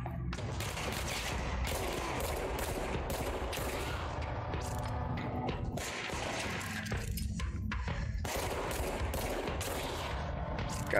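Rapid volleys of gunfire from a regenerating-ammo weapon in the video game Control, coming in repeated bursts with short gaps between them, loud and continuous across the stretch.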